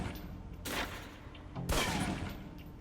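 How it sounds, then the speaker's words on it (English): Two pistol shots fired at a target on a range in the video game Alpha Protocol, spaced about a second apart and fairly close, each followed by a short ringing tail over quiet ambience. "Equip the pistol, then aim down range and take some shots at the target."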